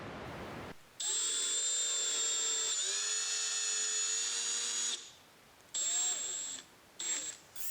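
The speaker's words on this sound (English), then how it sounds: "To drill the pilots, I'm going to use a 7/64 drill bit." A cordless drill with a 7/64 bit bores pilot holes in a Chevy Colorado dual battery build: a loud, close, high whine in several bursts, one long run of about four seconds, then shorter pulses separated by quiet gaps.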